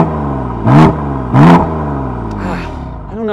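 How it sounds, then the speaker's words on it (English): A 2017 BMW M4 with a stock exhaust idles with a deep rumble, then is revved twice in sharp, loud bursts before settling, with a lighter third blip near the end. "Go ahead and rev it up."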